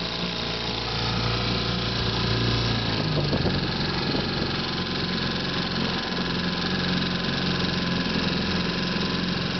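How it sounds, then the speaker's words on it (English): A 1961 Johnson JW-17 3 hp outboard motor idles steadily, its low, even engine drone running continuously and close without speech. "idle's right down. Very nice smooth idle on it."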